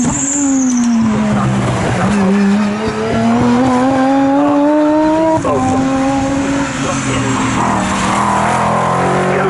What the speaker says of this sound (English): we still have 9 cars out on track